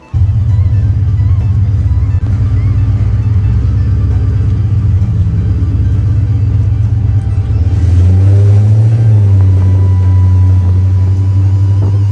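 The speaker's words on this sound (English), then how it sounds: "It's got a stroker motor in it, so it makes around 650 to 700 horse, the motor does." A stroker-motor 1960 crew cab truck with a GT500 engine swap, making around 650 to 700 horsepower, idles with a loud, steady low rumble, then revs up sharply near the end before settling back.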